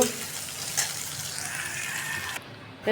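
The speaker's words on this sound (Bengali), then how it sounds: "ভাইজা নিব" Onion and green chili fry in a pan with a steady, fairly loud sizzle, dropping out briefly near the end before picking back up.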